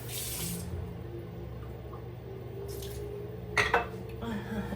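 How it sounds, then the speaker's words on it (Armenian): Water runs steadily from a tap into a sink, with a couple of brief clatters of dishes near the end. "ջուր բացեցու"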